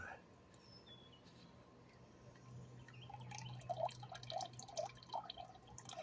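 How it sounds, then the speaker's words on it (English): Oil drips and trickles from a push lawn mower into a bucket in a series of small plinking drops, close and faint, growing more frequent toward the end. "Now give it a good oil drain."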